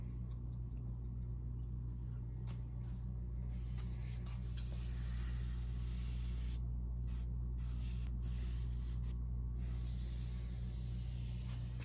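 A first coat of polyurethane is sprayed onto a wooden coffee table base, giving a steady, continuous hiss close by with a few brief pauses, and no talking.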